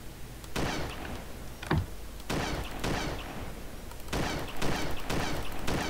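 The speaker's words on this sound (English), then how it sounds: "I hear shots" Gunshots in the video game Arma 2, several sharp separate reports spaced a second or so apart with echoing tails, plus a heavy thump, moderately loud.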